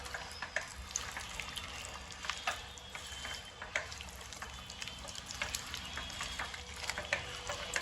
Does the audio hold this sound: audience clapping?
no